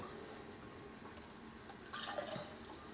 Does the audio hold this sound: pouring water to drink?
yes